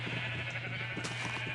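Sheep bleat in Minecraft among a rainbow sheep display on the ground floor, a short steady game bleat over a constant low hum, with no talking.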